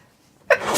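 A single sharp sneeze bursts out close and loud after a near-silent moment.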